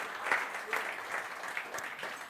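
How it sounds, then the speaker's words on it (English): An audience at a ceremony claps in a short burst of applause, many hands at once, lively and close, with no voices standing out over it. "A big round of applause for that,"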